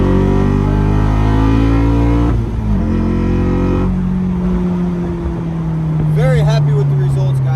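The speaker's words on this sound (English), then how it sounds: "I'll give you a couple of revs." A Honda S2000 with an aftermarket exhaust, freshly repaired after a crash and running well, revs loudly at close range, the engine note climbing and falling through a couple of throttle blips before settling, with a brief voice near the end.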